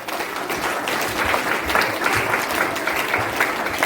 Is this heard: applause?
yes